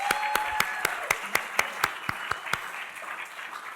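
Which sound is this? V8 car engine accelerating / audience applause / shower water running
audience applause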